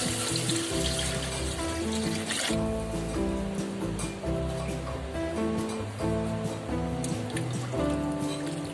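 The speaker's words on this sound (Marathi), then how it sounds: "तर यात पाणी टाकते." Water is poured steadily into a large pot of dry chicken masala, giving a continuous splashing, gurgling stream that stays close and fairly loud throughout, with no speech.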